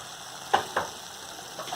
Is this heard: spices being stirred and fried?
yes